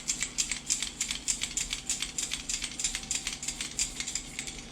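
Rapid, rhythmic rattling of small hard beads clicking inside a Vision 110 style minnow fishing lure, bright and close, repeating steadily several times a second.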